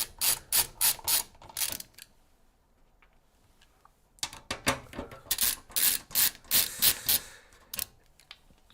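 Screws being worked loose by hand during a mid-range AMD PC build, with bursts of quick ratcheting clicks, a quiet pause in the middle, then more rapid clicking runs, close and fairly soft.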